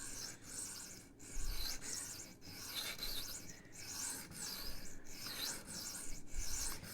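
A Rough Ryder Half Hawk knife blade is drawn over a bench stone held at an angle by a 3D printed guide, making close, steady rhythmic rasping strokes about every second with no talking.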